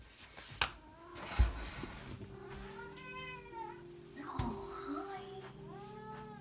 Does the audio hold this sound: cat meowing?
yes